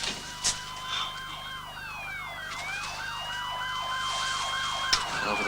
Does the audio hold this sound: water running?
no